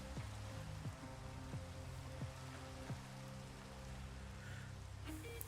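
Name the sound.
rain falling in a video game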